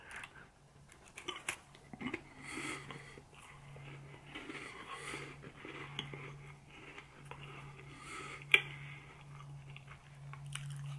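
Someone chews a flour cookie sent from Texas, with soft crunchy bites and mouth noises close to the microphone and a few sharper clicks, no talking.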